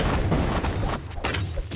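Bomb explosions in Kingdom Rush crash out in a tight run of loud, booming thuds, several close together across the whole short stretch, with no talking.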